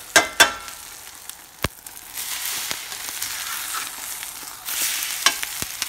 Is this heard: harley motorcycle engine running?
no